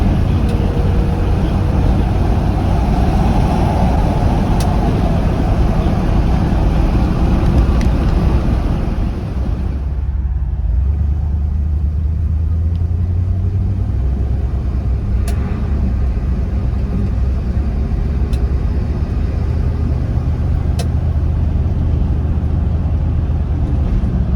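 A 1979 Dodge step-side pickup truck pulls in a lower gear, its engine a steady, loud low drone with road rumble and wind noise; the tone shifts partway through as the load changes, with no talking.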